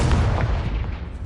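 The Confringo fire-blast spell detonates in Hogwarts Legacy as a single heavy, close boom with a deep rumbling burst that quickly fades away.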